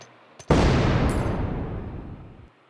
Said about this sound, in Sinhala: කෑ ගහන කෑ ගහලා මේ බෝම්බ දාන්න පුළුවන් යාළුවනේ